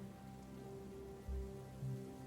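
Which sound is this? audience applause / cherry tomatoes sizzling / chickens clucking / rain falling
rain falling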